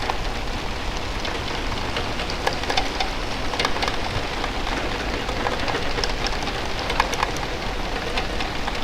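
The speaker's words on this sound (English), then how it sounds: "Pouring down again." Heavy rain pours steadily at Southampton port in foul weather, a dense constant hiss with scattered drop patter and no pauses.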